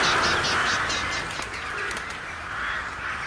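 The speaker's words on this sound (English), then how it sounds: "Nice tease for the crows" Crows call in a scene from the 2002 Resident Evil movie, giving a string of harsh, repeated caws up front that fade into a softer ambient bed.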